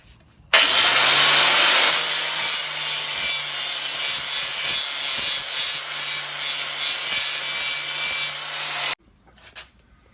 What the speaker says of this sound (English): I want to cut about a 45-degree angle and maybe about halfway through the thickness of the metal